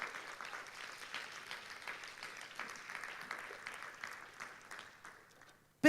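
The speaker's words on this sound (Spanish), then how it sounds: "Den un aplauso al Señor, aleluya." A church congregation applauding the Lord during a sermon, a fairly faint, steady wash of clapping that tapers off before a sudden loud sound at the end.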